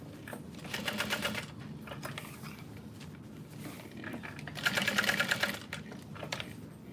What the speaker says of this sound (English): And then I'm doing a box stitch through that fabric.